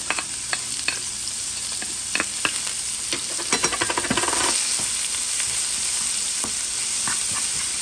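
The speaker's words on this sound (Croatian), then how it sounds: "I luk ćemo sad da prepržimo." Chopped onion frying in oil in a pan for a beef and vegetable stew, a steady close sizzle with scattered crackles and a few stirring scrapes, no voices.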